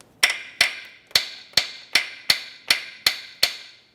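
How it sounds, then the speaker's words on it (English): Nine crisp taps of a small hammer on metal while replacing the power steering pump on a 2003-2008 Toyota Corolla, evenly spaced and ringing briefly, close and moderately loud with no voices. "Small hammer, tap it through."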